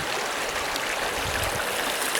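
River water flows steadily at a gold-panning spot, a continuous soft broadband rush and trickle, moderately quiet and unbroken.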